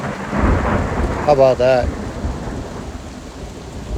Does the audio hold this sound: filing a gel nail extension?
no